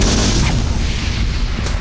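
Cannon fire against rebels in a city square makes a loud, dense roar of artillery that rumbles on without a break and has no single clear report.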